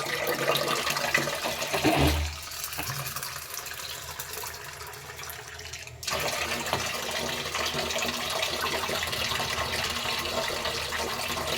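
Water pours over chana dal to soak it, a running splash that swells, drops to a quieter trickle, then resumes as a steady gush for the rest of the stretch.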